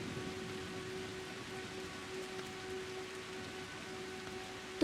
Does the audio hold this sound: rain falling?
yes